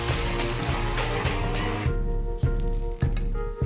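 Fish frying in butter in a hot pan, the butter close to turning nut brown, gives a loud, steady close sizzle that thins out partway through, with a few sharp pops and clicks.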